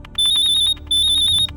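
A telephone ringtone chirps in two loud electronic bursts of rapid, high repeating tones, with a short gap between them, in a quiet home setting.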